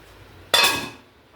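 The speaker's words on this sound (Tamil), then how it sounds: "ஏலக்காய் நல்லா இடிச்சு போட்டு" A single sharp metallic pounding strike, like a pestle crushing cardamom pods in a mortar, ringing briefly before a faint second tap.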